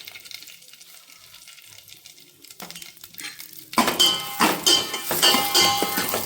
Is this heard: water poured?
yes